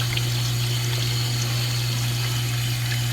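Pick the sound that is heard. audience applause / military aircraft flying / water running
water running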